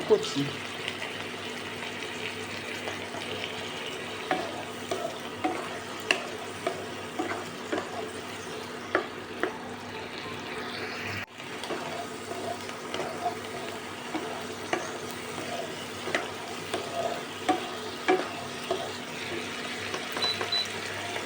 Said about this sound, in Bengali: কুচি পেঁয়াজটা কিন্তু ভালো করে ভেজে নিতে হবে